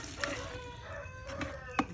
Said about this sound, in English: Apologize for my rooster in the background.